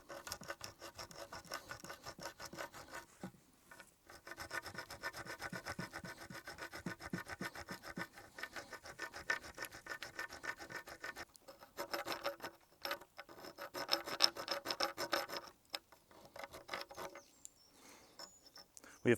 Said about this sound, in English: with a few seconds work I'm already starting to cut through into the cortical bone